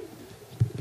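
Racing pigeons, a flock of young birds close to twenty strong, arriving at a club loft entrance in Łochów, with a short low coo and a soft flutter standing out against quiet outdoor background noise.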